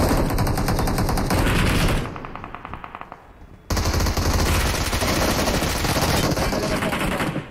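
Rapid automatic gunfire from the mobile battle royale game BGMI rattles loud and close in dense bursts, drops into a quieter lull, then resumes at full intensity.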